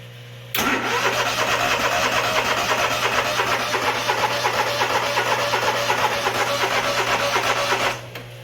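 A Grazer G2297K mower engine fires up after fuel system repair work, catching abruptly and settling into a steady, loud running drone before cutting off near the end.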